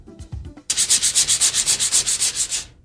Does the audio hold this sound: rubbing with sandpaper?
yes